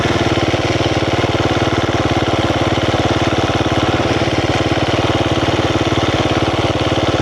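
A KTM 350 motorcycle engine idling slightly high, a steady, fast, even putter with a strong low-pitched pulse, close up and loud, running alone with no voices.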